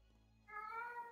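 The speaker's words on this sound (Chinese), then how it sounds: "好，还是猫在叫" A single cat meow, faint and short, a tonal rising-falling cry following a moment of near silence.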